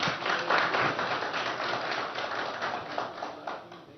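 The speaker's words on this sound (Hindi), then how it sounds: "एक बार चाहूंगा जोरदार तालियों से हम उनका स्वागत करें।" A Chunav Manch 2022 audience claps to welcome Aparna Yadav in a hall, with dense, steady applause lasting the whole stretch and easing slightly toward the end, without speech.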